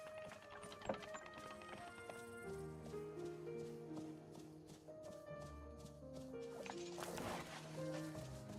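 Hooves of a ridden horse walk in a video game, a light repeated clip-clop close by, mixed with game music and sparse mechanical ticks.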